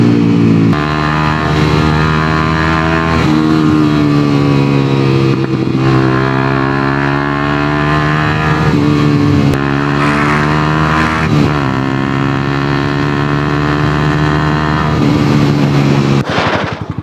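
A Benelli TRK 502X motorcycle engine roars loud and close while ridden fast, its pitch climbing and dropping through several gear shifts in a sustained, continuous drone with no talking.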